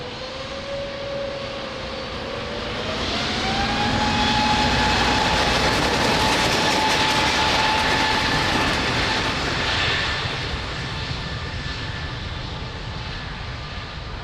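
A jet aircraft takes off from runway 02 at Lisbon Airport, its engine roar swelling loudly with a rising whine, holding strong, then easing slightly as it climbs away.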